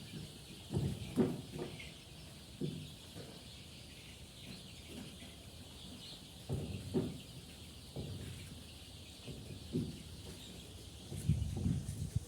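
Chickens on a farm cluck in scattered short bursts, moderately near, with quiet stretches and a steady background hum between calls, no talk.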